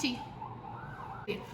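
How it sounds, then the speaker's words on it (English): Emergency siren sounding outside: a faint, distant wailing tone that rises and falls steadily under a quiet room background, with a brief sharp noise near the end. "You will hear some sort of siren going off."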